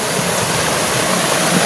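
Rushing water at a waterfall on a hiking trail, a steady broadband roar filling the clip at close range with no break or voices.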